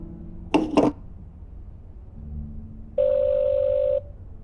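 A phone number is punched in during the video game The Black Mirror III, a short burst of key tones followed by a single steady electronic tone lasting about a second, clear and close with no talking.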